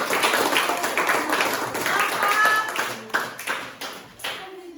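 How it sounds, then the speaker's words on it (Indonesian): Classroom of students clapping for a student group, a lively burst of hand claps close by that tapers into a few scattered claps, with some voices in the background. "Tepuk tangan dong buat kelompok anggur."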